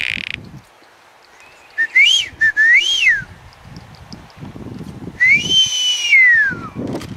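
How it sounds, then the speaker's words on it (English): Male blue-footed booby on North Seymour in the Galapagos gives three rising-and-falling whistles, the last one longest and sliding downward, close and clear with a low rustle between calls and no talk. "The male is the one that is whistling"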